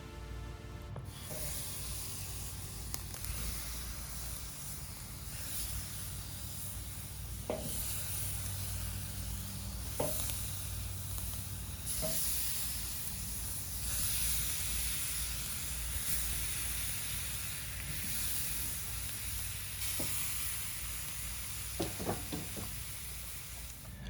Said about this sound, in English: Let's go ahead and get these butterfly drums over some fire.